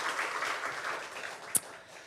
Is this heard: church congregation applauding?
yes